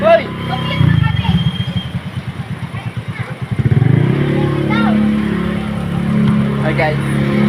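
A motorcycle engine putters and revs close by in a rural spot, with a rapid low pulsing that rises midway, while people talk and shout over it throughout.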